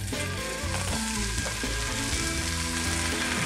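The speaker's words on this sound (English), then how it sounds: "We're gonna throw a few pieces of this in there and fry it up" Homemade bacon slices frying in a heated cast iron skillet, a steady dense sizzle with crackling pops throughout, with no talking.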